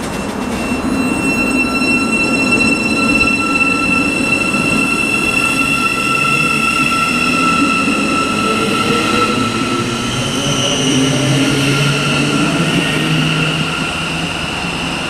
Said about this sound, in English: going on now is going to be the 11:14 Thameslink service from Horsham to Peterborough